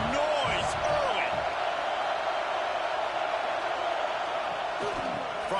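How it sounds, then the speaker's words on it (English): A football stadium crowd roars in a steady, dense wash of noise throughout, with scattered whoops rising above the continuous din. "This crowd bringing the energy and noise early"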